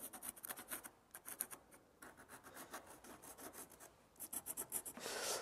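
Pencil or marker scratching along a paper pattern for a cut-out in aluminium sheet, floor repair on an R5 Alpine Turbo: close, dry rubbing strokes in quick bursts with short pauses, then a denser final scrape.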